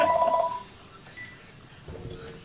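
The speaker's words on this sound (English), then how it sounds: "Who calling the house phone?" A house phone on a radio call-in show sounds a short run of electronic tones, a quick repeating beep with a steady tone, then a quiet line with faint background noise.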